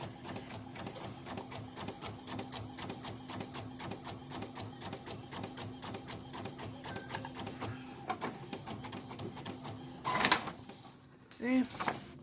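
A sublimation printer runs through a photo print with a fast, regular mechanical ticking and whirring that holds steady throughout, then a few louder clunks and paper-feed sounds near the end.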